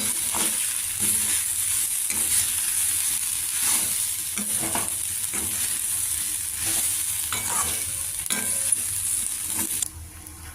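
Plantain pieces seasoned with cumin powder and chili fry in a pan, a soft continuous sizzle punctuated by regular scraping stirs every second or so, close-up and with no talking.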